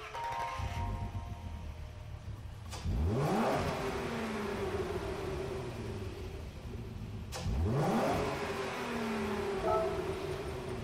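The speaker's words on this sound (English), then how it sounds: "we'll listen to the engine startup sound" A 2003 Audi TT Coupe 3.2 quattro starts up in the Gran Turismo 7 video game; the engine cranks, catches and revs twice in quick rising-and-falling bursts over a quiet background.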